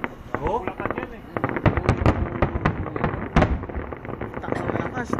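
Dense, rapid crackling of Eid al-Fitr fireworks bursting overhead in Riyadh, dozens of sharp pops and bangs layered over one another, loud and continuous, with voices faintly underneath.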